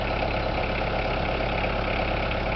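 A tractor engine idles steadily, a dense continuous rumble with constant loudness and no change in pace throughout, heard close with no voices.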